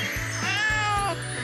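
A kitten in an animated cartoon gives a single drawn-out, rising and falling meow, loud and close, over a low musical background.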